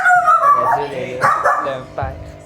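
An agitated father dog near his newborn puppies gives several yipping, whining barks in an uneven sequence, close to the microphone, while someone talks at the same time.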